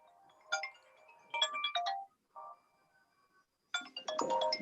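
A phone ringtone rings close and clear in a quiet room, a series of bright melodic tone bursts separated by short gaps.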